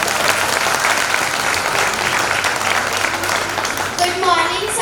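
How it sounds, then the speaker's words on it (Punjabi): A seminar audience in a hall at Jalandhar's Red Cross Bhawan claps loudly and continuously, a broad steady wash of applause that thins slightly near the end as a voice or tone emerges. "ਤਾੜੀਆਂ ਲਾ ਦਿਓ ਯਾਰ।"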